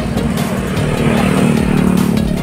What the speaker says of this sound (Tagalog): natatakot siya sa mga ingay ng sasakyan